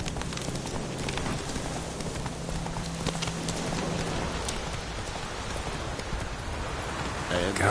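Roach the horse galloping through rain in The Witcher 3, steady hoofbeats clip-clopping under a constant hiss of rainfall, a voice speaking briefly over it.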